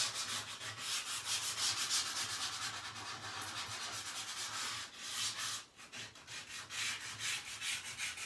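Sanding the edges and corners of a painted surface by hand, rhythmic back-and-forth rasping strokes close up, steady with a brief pause partway through and no talking.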